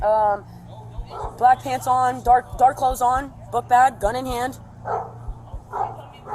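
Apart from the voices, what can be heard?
dog barking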